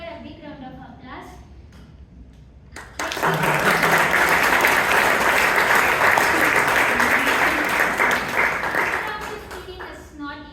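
A club meeting audience bursts into applause for a speaker after a voice talks, dense steady clapping that starts abruptly, holds for several seconds and tapers off at the end.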